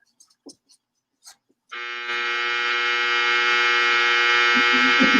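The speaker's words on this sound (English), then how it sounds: "Dryer's done." Clothes dryer end-of-cycle buzzer sounding in a home, a loud steady electronic buzz that starts abruptly after a few faint bumps and holds on continuously for several seconds.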